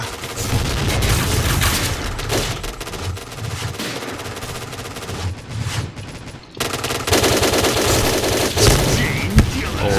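Dense bursts of rapid gunfire and booming explosions in the video game Point Blank fill the scene continuously, loud and close, with a brief lull midway before the barrage resumes.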